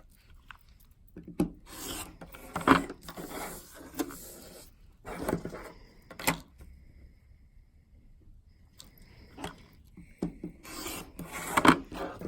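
Scissors or a rotary cutter rasp and scrape in short, uneven bursts with quiet pauses between them, trimming the edges of a foundation paper pieced quilt block close up.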